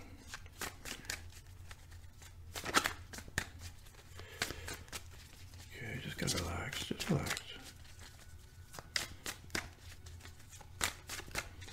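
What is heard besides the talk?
shuffling cards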